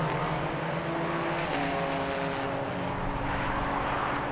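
A BMW Z3 race car in a Britcar Endurance Championship race at Silverstone gives a loud, steady engine roar with a sustained, slowly shifting pitch throughout, and no voices.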